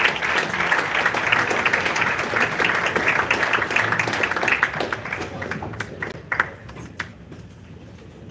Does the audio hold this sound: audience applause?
yes